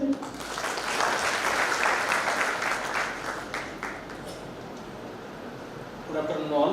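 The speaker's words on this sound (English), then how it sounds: "Big round of applause, people." Audience applause at a valedictory function for an academic conference, a broad wave of clapping that swells, then gradually thins and fades, before a voice begins speaking near the end.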